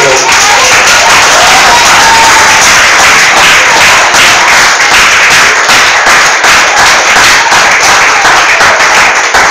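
Loud, sustained clapping from a Pentecostal church congregation, many hands beating together in a dense, driving stream with sharp cracks throughout, very close and intense for the full stretch.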